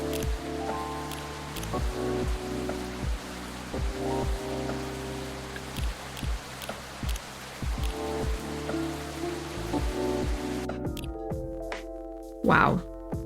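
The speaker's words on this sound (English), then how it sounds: "This rainy season sure is something." Steady rain falls in the video game Coffee Talk 2, a continuous soft patter with musical tones and a brief voice near the end.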